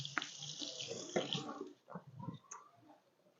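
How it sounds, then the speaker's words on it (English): Hands washed under a running kitchen tap, a steady hiss of flowing water with splashing and rubbing that fades to a few quieter drips and clinks, close and fairly soft. "Let me wash my hands."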